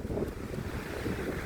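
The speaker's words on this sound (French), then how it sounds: "il y a un vent de dingue, aujourd'hui, ça doit être des rafales à 80 km/h au bord de la plage" Strong gusts of wind, estimated near 80 km/h, buffet the microphone on the beach at Sanary-sur-Mer, making a loud, continuous roaring rush with surf-like texture and no speech.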